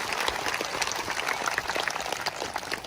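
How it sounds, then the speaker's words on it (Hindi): A church congregation claps loudly for the Lord during a worship lesson, a dense, steady wash of many hands lasting throughout without a break. "एक अच्छी ताली अभी तक प्रभु के लिए, जोर से"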